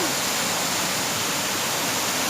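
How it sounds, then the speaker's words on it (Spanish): Water rushes at the Bucay waterfalls in Ecuador, a loud, unbroken roar that fills the short clip. "Las cascadas de Bucay."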